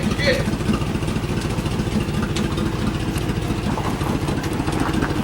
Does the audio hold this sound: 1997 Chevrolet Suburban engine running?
yes